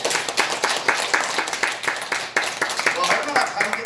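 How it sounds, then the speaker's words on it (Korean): An audience at a religious gathering applauding, steady rhythmic clapping from many hands, loud and continuous throughout with a few voices mixed in. "박수 한번 쳐주세요."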